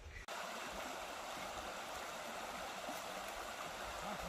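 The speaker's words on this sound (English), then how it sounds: "The waterfall is amazing." Waterfall in south-west Romania, found along a mountain path up to a lake: a steady, loud rush of falling water that fills the whole clip, continuous and close, with no voices over it.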